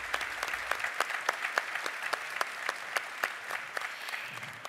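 Audience applause at a business innovation seminar, a steady wash of clapping with distinct sharp claps spread across the whole stretch, fairly loud and without speech.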